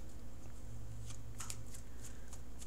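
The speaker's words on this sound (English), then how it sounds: "So I'm going to shuffle for that outcome card." Tarot cards are riffled and shuffled in a few quick, crisp bursts close by, over a low steady background hum.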